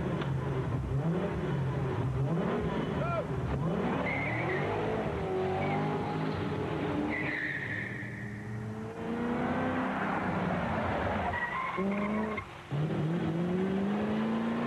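A V8 car driving on the road, its engine note rising and falling through gear changes with a steady rumble and audible revs, continuous and close throughout with a short dip near the end.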